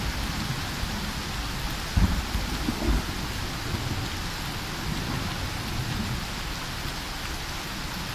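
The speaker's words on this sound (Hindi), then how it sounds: "अरे बारिश हो गई, अरे भागो।" Steady rain with rumbles of thunder fills a Japanese haunted-property video game, a broad continuous downpour with two brief heavier thumps early on and no talking.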